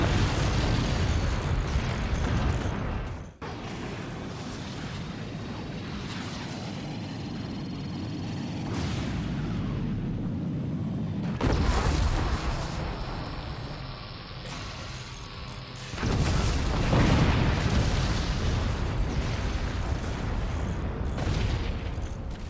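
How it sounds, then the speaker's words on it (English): Howitzer explosions in a shooter game, heard as heavy booms with sharp onsets and long rumbling tails, a few seconds apart, loud and dense with mechanical clatter between them. "here comes another howitzer"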